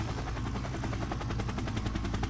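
A simulated helicopter in an Unreal Engine flight system, its rotor thumping in a fast, steady pulse over a constant engine drone, loud and close with no voices.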